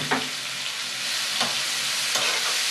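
Tomatoes and spices frying hard in hot oil, a loud continuous sizzle with occasional scraping stirs, close up and free of voices.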